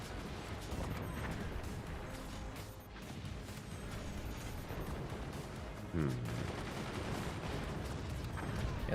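Continuous battle din from Forts, with gunners firing to shoot down incoming nukes: dense, steady rattling fire and booms throughout, a sharper impact near the end, with commentary voice mixed in.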